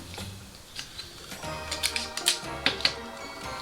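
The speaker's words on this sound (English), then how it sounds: "And just start taping it down." Sticky tape is pulled and pressed down onto paper photos while making a Christmas elf craft, giving a series of close, sharp crackles and taps with brief rustles between them, and nobody speaks.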